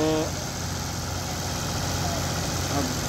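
Tractor engines idle and rumble with a steady low drone while straining to pull a stuck vehicle free, two tractors behind, continuous and fairly close, with a brief voice at the start.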